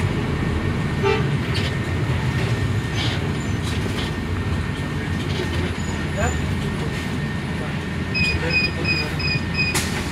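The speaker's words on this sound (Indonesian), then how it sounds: "Ini ada kereta bandara nih." An airport rail train rumbles past nearby in a steady, loud wash of low noise, with a horn-like tone near the end, heard from a shuttle bus stop as people chat in the background.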